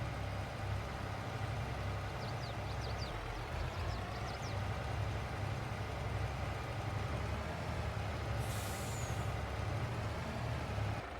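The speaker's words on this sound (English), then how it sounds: "It's just going to be a nice slow winch out" Steady low engine drone of a heavy truck slowly winching a cement mixer truck back onto pavement in Farming Simulator 22, a constant idling rumble with faint hissing and a brief high burst partway through, no talk.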